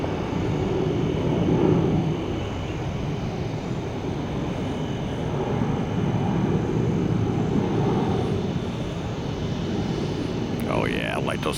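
A Boeing 757 jet departing Orlando for Atlanta, its engines making a loud, steady broadband roar that holds throughout.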